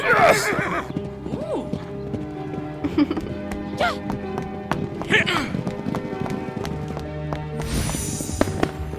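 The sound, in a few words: horses galloping and neighing in a horse race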